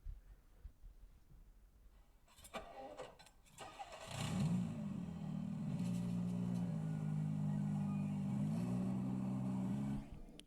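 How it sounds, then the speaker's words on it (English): A generated sports car sound effect: an engine cranks and catches, then holds a loud, steady revving drone as the car pulls away, ending abruptly. "That's the sound of me driving off in my new sports car after you subscribe."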